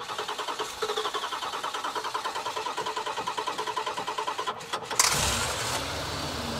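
A 1983 Dodge Ram truck engine with an old Holley carburetor cranks in a steady rapid rhythm for about five seconds, then fires and catches into a rough, louder idle, close by with no talk.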